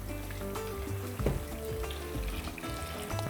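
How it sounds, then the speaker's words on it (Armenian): Boiling water poured into a pan of seasoned potatoes, a steady sizzling hiss with splashing, one brief louder splash partway through. "վրան լցնում ենք եռացրած ջուր"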